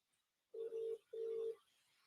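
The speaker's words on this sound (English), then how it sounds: "Is your phone ringing?" A telephone ring tone sounds twice, two even electronic buzzes in quick succession, fairly faint against an otherwise quiet background.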